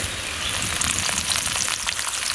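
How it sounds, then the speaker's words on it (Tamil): Crushed garlic dropped into hot oil while making a South Indian mixture snack, giving a steady, loud, close sizzling crackle that runs unbroken throughout with no talking. "தட்டி வச்சிருக்கிற பூண்டு போட்டுடலாம்."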